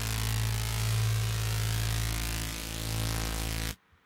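A synth bass patch in Ableton plays dry without audio effects, a loud sustained low buzzing tone with a thick droning layer that holds steady for nearly four seconds, then cuts off.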